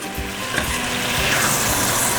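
A spoon scrapes stuck bits from the bottom of a hot pan while pork tenderloin cooks and the liquid deglazes it, a continuous close sizzle with rough scraping throughout.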